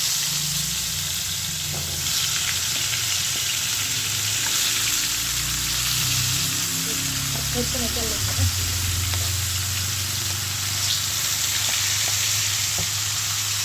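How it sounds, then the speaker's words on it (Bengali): Marinated silver carp fish pieces frying in hot oil in a wok, a loud continuous sizzle with occasional stirring clatter, and a voice talking briefly partway through. "কড়াইতে তেল গরম হয়ে গেছে, আর এখন ম্যারিনেট করা মাছের পিসগুলো দিয়ে দিব ফ্রাই করার জন্য"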